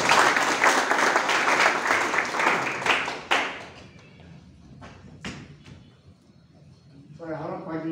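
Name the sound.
congregation applauding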